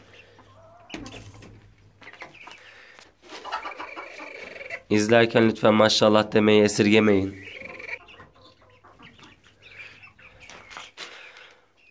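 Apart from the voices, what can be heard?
chicks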